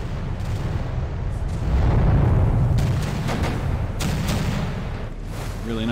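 Naval guns fire in the Pacific campaign of the game Victory at Sea Pacific, with a rumbling barrage of repeated booms and blasts under continuous low battle noise, with no talk.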